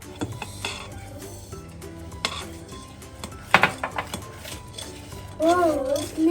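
Cake batter is mixed in a bowl with a spoon, giving scraping and clinking knocks against the bowl, including a few sharp louder clatters, while voices talk intermittently.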